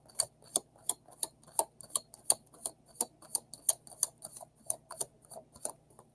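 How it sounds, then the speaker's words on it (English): Tarot cards riffled and snapped together in a steady rhythm of about sixteen crisp, close flicks over six seconds, alone with no voices. "I'm going to reshuffle because I want to know KW's intention."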